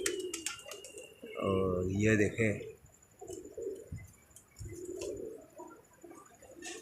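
Soft, throaty cooing of racing pigeons landing close by at a pigeon club, with a voice speaking briefly over the birds and light fluttering and shuffling sounds.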